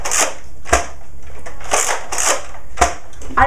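A Nerf Zombie Strike Slingfire blaster firing, several sharp snapping clacks in a quick irregular series, each a close, bright, short burst, with no voices.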